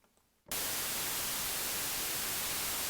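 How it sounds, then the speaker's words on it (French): Synthesized white noise waveform from a sound-design synth, switching on abruptly after a brief quiet moment and then holding as a loud, flat, continuous hiss. "En l'occurrence, il s'agit ici d'un bruit blanc."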